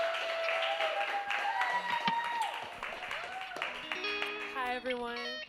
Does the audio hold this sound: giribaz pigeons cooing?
no